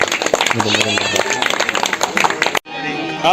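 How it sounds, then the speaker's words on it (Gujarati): Audience clapping at a gathering, a dense patter of hands mixed with voices and shouts, sustained for a couple of seconds before cutting off and giving way to quieter talk. "તાળીઓના નાદથી આપણા સન્માનને વધાવ્યું"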